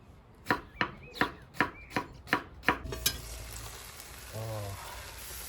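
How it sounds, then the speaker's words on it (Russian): A knife chops half a hot pepper on a board during the making of shish kebab cooked in a kazan: eight sharp, evenly spaced chops, then a brief softer scrape or sizzle in a quiet kitchen. "И дорезаем половинку оставшегося острого перца."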